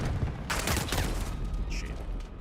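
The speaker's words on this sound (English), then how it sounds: "Throwing grenade." Grenade detonation in a modded Minecraft game, a loud burst of explosive rumble with crackling debris, heard close and dense for about a second amid game ambience.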